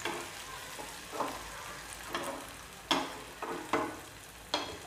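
Onion and tomato frying in a pan, a steady soft sizzle broken by several scraping stirs at irregular intervals, close and fairly quiet with no talking.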